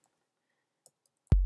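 A single kick drum sample is triggered in Ableton, landing as one deep, punchy thud at the end after near silence and a couple of faint clicks.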